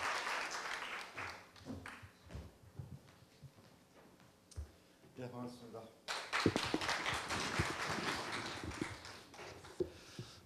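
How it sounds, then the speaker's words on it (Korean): An audience at a Korea University campus town fair breaks into loud, sustained applause to welcome the university president, the clapping swelling into a dense wash after a stretch of quieter scattered claps under an announcer's voice. "큰 박수로 맞아주시기 바랍니다."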